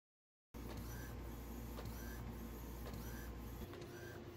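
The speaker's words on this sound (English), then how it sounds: "I head over to Photoshop and print 3 purge files." An Epson XP-15000 inkjet printer running purge prints, starting abruptly with a steady mechanical whir and rhythmic carriage passes, repeated faint clicks and shuttling at regular intervals, close and alone.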